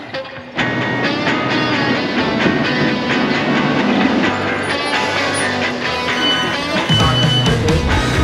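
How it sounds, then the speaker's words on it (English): Loud, steady rumble of a UK passenger train running on rails toward Cardiff, with continuous rattling and clatter from the carriages throughout. "I'm just going to jump on this train that's going to take me into Cardiff"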